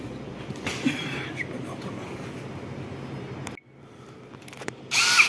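A CNC machine drills with a steady whirring grind and scattered clicks, then stops abruptly, leaving a quieter hum before a brief loud burst near the end.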